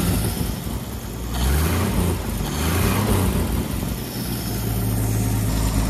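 Chevy 250 inline six-cylinder engine running steadily with a bad exhaust leak between the intake sections, a loud continuous low rumble with slight rises and dips and no voices.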